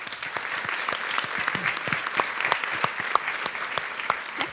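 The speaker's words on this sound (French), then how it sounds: "On peut l'applaudir" An audience applauds after a conference talk on chaos engineering, a moderate crowd of hands clapping with distinct individual claps standing out against the steady patter, holding an even level throughout.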